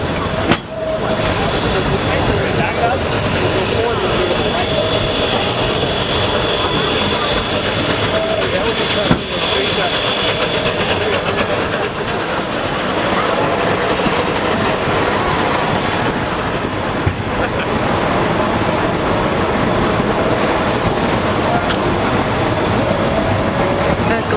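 A train rumbles steadily up an 11% grade on the Roaring Camp Railroads with a constant mechanical roar and occasional clanks, heard from on board, loud and continuous throughout.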